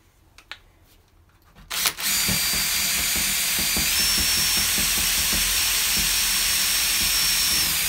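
Power drill driving screws into a UPVC door hinge, a few quiet knocks first, then a sudden loud, steady whirring run that continues to the end with faint ticking beneath it.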